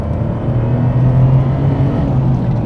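A Lotus Carlton's engine revs loudly and close up in a deep, steady rumble that rises slightly in the middle. The note holds for about three seconds with no voices.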